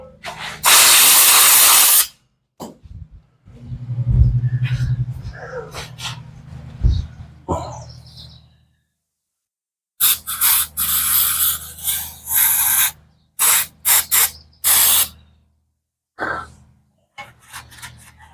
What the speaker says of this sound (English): should blow her out with some compressed air now